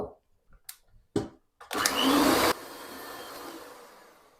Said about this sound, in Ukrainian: буду збивати білки